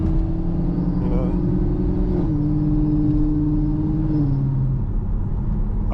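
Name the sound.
Chevrolet Camaro SS muscle car engine while driving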